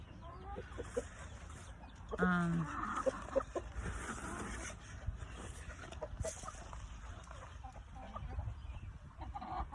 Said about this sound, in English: But ooh, my chickens. Those big girls. Those are Jersey Giants.